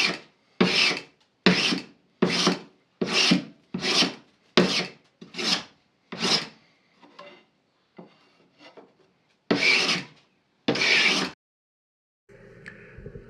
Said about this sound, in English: I'm just planing the other side where I did the rip cutting so that it is nice and smooth